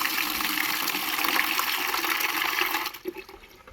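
Water gushes steadily into a bucket, a loud continuous rushing pour that eases and turns uneven near the end.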